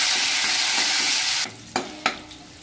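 Bottle gourd seasoned with a little turmeric sizzles steadily in a hot pan, then quietens as it is stirred, leaving a few sharp scrapes and knocks of the spoon against the pan.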